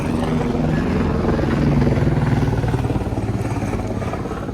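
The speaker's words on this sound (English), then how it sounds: "Whoa, where's that helicopter coming from?" A helicopter flying near Camp 2 on Mount Everest, a loud throbbing rotor beat with rapid regular pulses under a rumbling engine, swelling and then fading slightly as it passes, with no voices.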